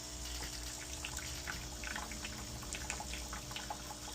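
Water rinsing through a Delonghi espresso machine with a suspect piston gasket, a steady wet flow with a faint pump hum, continuous and close with no talk.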